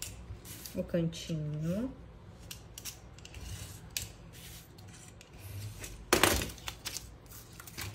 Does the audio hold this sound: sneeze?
no